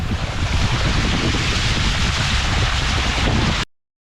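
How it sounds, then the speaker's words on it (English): Floodwater rushing through a street intersection on Long Island after storms, a steady loud wash of broadband noise, with no voices, cutting off abruptly at the end. "Look at all this water just running through this intersection."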